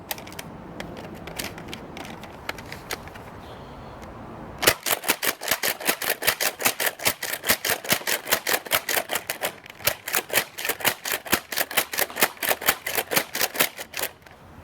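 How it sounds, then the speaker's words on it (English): A Nerf Wrist Raider blaster slam firing from an 18-round magazine: after a few seconds of quieter handling, a long rapid string of sharp mechanical clacks sounds up close, uneven in pace, with brief pauses between bursts. "We'll try it again with the 18 and see just how quickly I can slam fire it"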